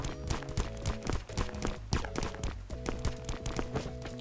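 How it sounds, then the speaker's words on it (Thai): Footsteps thud inside a house in the survival video game Last Island of Survival, a quick uneven run of taps and knocks heard close over a sustained musical drone. "และบ้านนี้คือมีเสียงเท้า"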